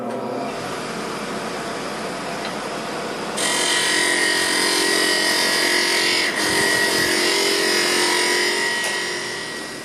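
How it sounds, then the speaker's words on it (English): A wood lathe spins fast while a sharp skew smooths a wooden hookah mouthpiece, a steady whirring hum that turns louder and brighter with the hiss of the cut partway through, then eases off at the end. "Now it's time to go back in and smooth this out with a nice sharp skew."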